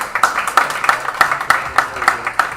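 Rhythmic clapping from an audience at a comedy and music show, sharp evenly spaced claps roughly every third of a second, fairly close and steady, with a faint murmur of voices underneath.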